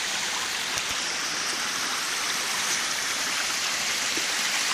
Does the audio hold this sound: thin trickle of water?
yes